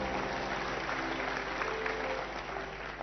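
A church congregation clapping together, a dense continuous roar of applause filling the room at steady loudness throughout.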